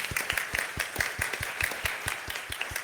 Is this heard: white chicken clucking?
no